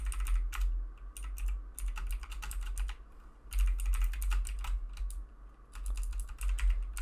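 Rapid, uneven typing on a computer keyboard, clattering in bursts of keystrokes with short pauses between them while a web form is filled in, close and steady beneath a low background hum.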